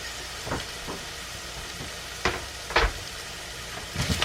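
Garlic, thyme and two bay leaves sizzling in a pot for red beans and rice, a steady close hiss broken by several short bursts of crackle and stirring clatter.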